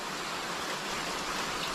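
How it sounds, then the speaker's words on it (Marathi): Heavy rain falls steadily at night, a dense, even hiss of drops pouring down without pause, loud and close, with no voices. "पाऊस जोरात पडतो आहे."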